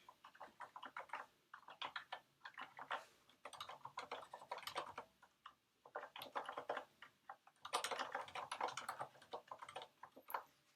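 Steady bursts of typing on a computer keyboard during a Rust programming session, with rapid clustered keystrokes and short pauses, close and moderately quiet with no speech.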